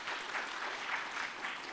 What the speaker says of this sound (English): We need to clap for ourselves.